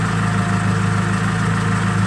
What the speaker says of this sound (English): Idling smooth.